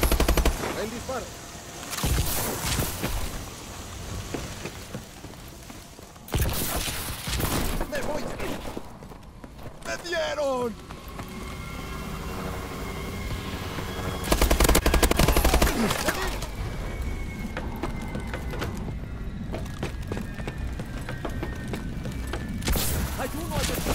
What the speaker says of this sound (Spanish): ¡Me dieron! ¡Me están disparando!